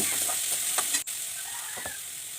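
Finely chopped medium-sized onion frying in oil for carrot rice, a steady close hiss of sizzling with a couple of soft stirring scrapes and a brief dip midway.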